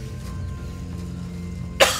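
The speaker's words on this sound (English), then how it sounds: "My cough is acting up." A single sharp cough bursts out near the end after quiet room tone, close and loud.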